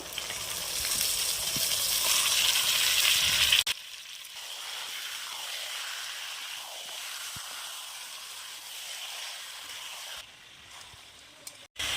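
Marinated mutton frying in spice masala, a loud steady sizzle that drops after a few seconds to a quieter, continuous hiss with occasional stirring sounds.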